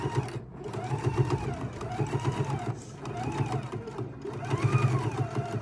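A Husqvarna Viking sewing machine hems jeans in rhythmic bursts of rapid needle stitching, each run rising and falling in pitch with short pauses between, close and clear with no one talking.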